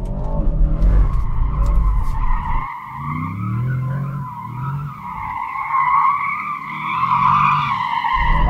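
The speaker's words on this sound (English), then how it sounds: "Let's see how easy this car is to slide with the stability off." Tyres on a performance SUV, a Porsche Cayenne Turbo GT or Aston Martin DBX707, skid and squeal as it slides on tarmac with stability control off, a loud sustained screech rising and falling over engine noise, no talking.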